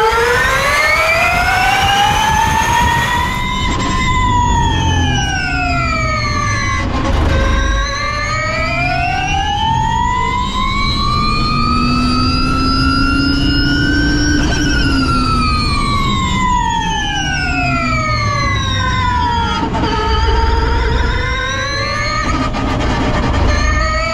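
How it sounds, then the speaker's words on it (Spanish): A Porsche Cayman GT4 ePerformance electric race car accelerates out of the pit lane. Its loud, high electric-motor whine climbs and falls in long sweeping arcs across several surges, with no voices over it. "Es pasar el semáforo y el coche sale lanzado como un misil."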